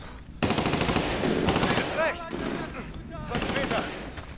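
Dense automatic gunfire from Medal of Honor: Warfighter rattles in sustained bursts, loud and close, with brief pauses, while someone talks over the shooting.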